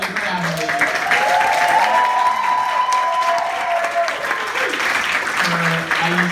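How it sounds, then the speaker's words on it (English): A crowd at a film tribute screening gives a round of applause, with dense clapping throughout, some cheering, and a sustained whoop or whistle rising above the clapping midway. A voice is heard briefly near the start and end. "Can we get another round of applause for"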